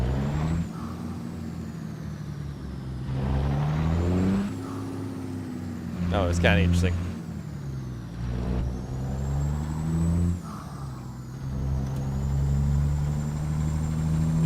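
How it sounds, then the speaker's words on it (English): A semi truck engine revs hard under full throttle, a loud low roar rising and falling with a brief hiss of air, while someone talks over it. "I'll floor it and you'll see the truck kind of lift up, and then you let off of it"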